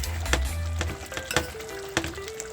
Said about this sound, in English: I'm making another stir, and I don't want it to stick in the bottom